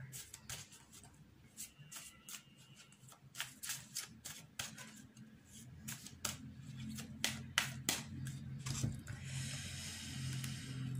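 Tarot cards are shuffled and one is drawn, a quick series of crisp riffling snaps and papery flicks close by, irregular at first and then denser and busier near the end.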